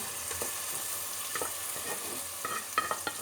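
Minced meat is stirred into tomato paste frying in a pan for içli köfte filling, a soft continuous sizzle broken by several scraping stirs and light clacks of a spoon against the pan.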